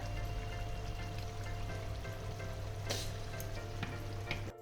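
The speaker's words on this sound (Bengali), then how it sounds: "এবার আমি এর মধ্যে দিয়ে দেব একটু ঘি দেব। একটু ঘি দিয়ে দিলাম।" Ghee added to potol korma sizzles steadily in a pan, a continuous close frying hiss with a few brief clicks and stirring scrapes near the end, no talking.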